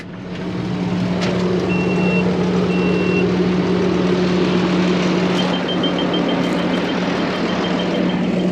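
Intermittent electronic warning beeps from a Gyrax 6 m mulcher running below 850 rpm, short tones repeating over a loud steady tractor engine drone, no speech.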